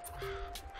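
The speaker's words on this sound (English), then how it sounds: "Get away, you shitty crows." Crows cawing in the video game Scapeland, a couple of short harsh calls over steady background game music and ambience.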